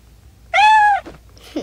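A cat in the Toca Life World mobile game gives a single clear, drawn-out meow, followed by a couple of faint soft sounds in an otherwise quiet scene.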